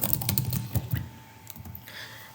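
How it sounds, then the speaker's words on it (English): A card number is typed on a computer keyboard: a quick burst of close, crisp key clicks, slowing into a few scattered taps before trailing off. "After you are done typing your card number"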